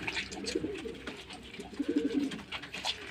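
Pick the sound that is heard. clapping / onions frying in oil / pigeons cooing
pigeons cooing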